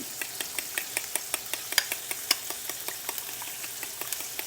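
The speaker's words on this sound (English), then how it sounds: "Scramble those up real good. Get that seasoning all through it." Food being scrambled with seasoning in a pan, a utensil scraping and tapping in a steady rhythm of sharp clicks over a faint sizzle, close and fairly quiet, with no talking.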